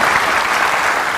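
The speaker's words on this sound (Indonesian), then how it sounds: "Boleh kita berikan tepuk tangan lagi untuk Christine?" Studio audience claps for Christine on a talk show, a brief burst of loud, dense, continuous applause from many hands.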